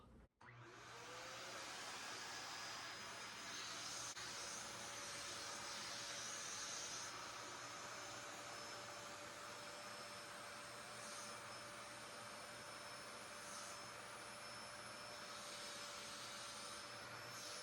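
A 2004 Dyson DC07 upright vacuum cleaner runs steadily on a floor with its crevice tool fitted, a continuous airy hiss and whine with a low hum, starting right away and holding evenly throughout, fairly close.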